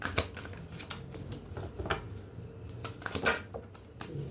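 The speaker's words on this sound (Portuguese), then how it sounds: "Quando eu estava embaralhando essa carta" Tarot cards being shuffled by hand: a steady run of soft riffling and flicking clicks, fairly close and moderately quiet, with no talking over them.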